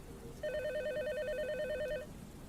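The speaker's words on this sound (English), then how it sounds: "a phone call came in." A telephone rings once with a steady electronic warbling tone lasting about a second and a half, clear and moderately loud against quiet room background, with no talking.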